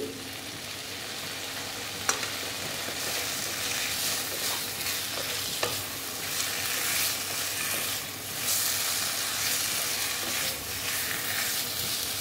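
Boiled, peeled potatoes sautéed in a pan for Bengali aloo dum, a steady close sizzle broken by occasional clinks and scrapes of a spatula stirring, with no voices.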